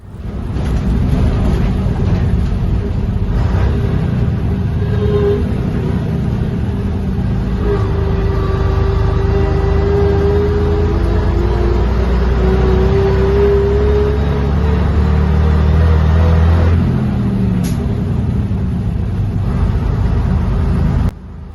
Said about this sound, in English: the melodious noises that they make with the whine of the gearbox and the sound of the engine